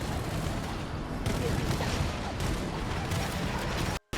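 Pistol shots and reload mechanics in the Halo Campaign Evolved remake, heard amid a thick, loud wash of battle noise and booms that runs throughout before cutting out briefly near the end.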